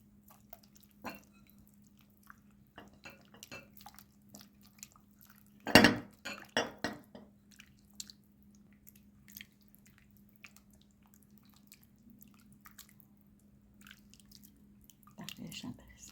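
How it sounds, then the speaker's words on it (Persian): Pomegranate juice is poured onto wild pistachios in a quiet kitchen, giving a short burst of splashing and dripping with a few utensil clinks over a low steady hum. "الان آبای انار رو میریزیم روی بنه ها"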